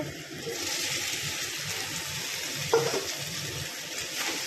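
Fried potatoes stir-fried in spiced oil in a pan, giving a continuous sizzle with soft stirring and scraping and a brief clatter partway through.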